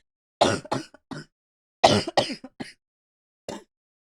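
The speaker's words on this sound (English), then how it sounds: "I have to cough really badly" Someone coughs and clears their throat in two harsh clusters of bursts close to the mic, then one last short cough after a pause.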